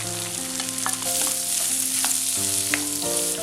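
Onions sizzle and fry steadily in a hot pan with crushed ginger, garlic and green chilli, with occasional stirring scrapes under a constant crackling hiss and no talking.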